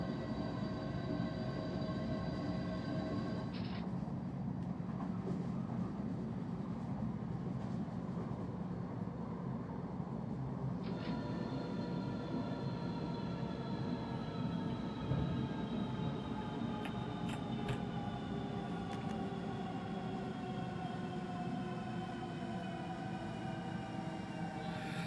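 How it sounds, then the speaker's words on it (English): An S-Bahn BR474Plus train on the Hamburg S1 line in Train Simulator rolls along with a low, steady rumble and layered whining motor tones that shift in pitch. No one talks. "For an S-Bahn train, this thing seems to not want to stop very quickly"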